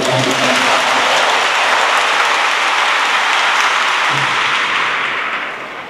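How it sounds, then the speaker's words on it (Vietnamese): Loud, sustained applause fills a church as the congregation claps during a Catholic confirmation mass, a dense, even roar of hands that fades near the end. "xin mọi người vỗ tay để chúc mừng cho các cha."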